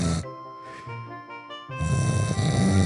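Snoring in a comically edited cartoon: a rough, droning snore with a buzzing tone, loud and close, which swells into a heavier rumbling snort near the end.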